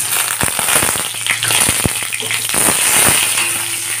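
Dried red chillies and ginger fry in hot oil in a pan, a loud continuous sizzle crackling with sharp pops and spits, close up and with no talk.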